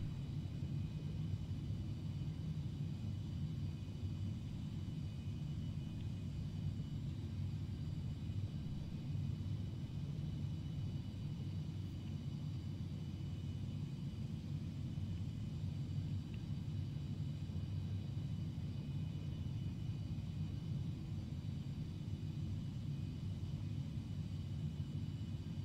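Premier 1A business jet in flight, a steady broadband cabin roar with heavy low-end rumble holding constant throughout, no talk over it.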